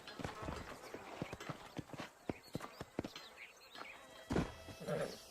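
Horses' hooves clip-clop in Red Dead Redemption, a rhythmic series of sharp hoof strikes at close range, fairly faint, with brief ambient game sounds near the end.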